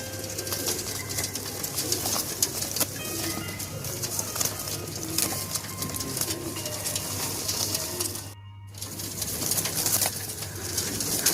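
Pigeons on a pigeon farm coo and murmur in a dense, continuous chorus nearby, with occasional wing flutters and a brief moment of quiet.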